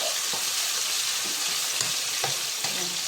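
Garlic and corned beef frying in a hot pan, a loud continuous sizzle close by with occasional stirring scrapes and knocks of a utensil.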